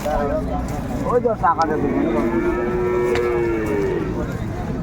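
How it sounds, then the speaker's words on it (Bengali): A cow with her calf at a busy cattle market lets out a drawn-out, fairly loud moo over constant crowd chatter and people talking nearby. "গাভী বাছুরটি"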